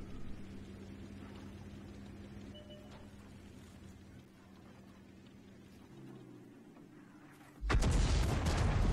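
A World of Tanks artillery piece fires once late in the passage, a sudden loud broadband blast after a long stretch of low engine rumble and ambient game noise.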